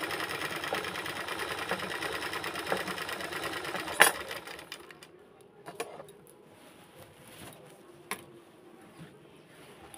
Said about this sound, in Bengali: দেখুন আমি সেলাই করছি, কোনোভাবে কুঁচকানো ভাব নেই, বোঝাই যাচ্ছে না যে এটা মেশিনে সেলাই হচ্ছে।